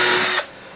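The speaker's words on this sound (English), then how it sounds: "Again, I'm drilling pilot holes." A power drill bores a pilot hole in a cigar box guitar build, with a loud, close whine lasting about half a second before it abruptly stops, leaving quiet room tone.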